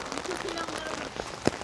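A short burst of heavy rainfall hisses continuously on nearby surfaces, with a sharper splash or knock near the end.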